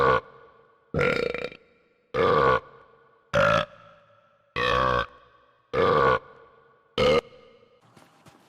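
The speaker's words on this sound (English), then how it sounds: "The burp was so good" A string of about seven loud, gravelly burps, each lasting roughly half a second, comes at a steady pace with short silences between.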